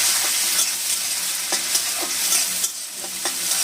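Chopped tomato, green chili and crushed nuts sautéing in a pan, a steady sizzle with a few sharp scraping stirs of a spoon, close and fairly loud, no voices.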